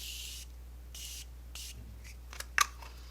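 A nearly empty bottle of Morphe setting spray is pumped onto a face three times, giving short, soft airy hisses at an even pace, followed by faint rustling and small clicks in a quiet room.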